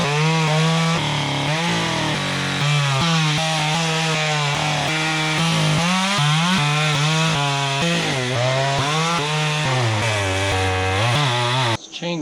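Chainsaw cutting logs in a river during a cleanup, loud and close, the engine bogging and revving repeatedly as the chain bites through wood before it drops off at the end.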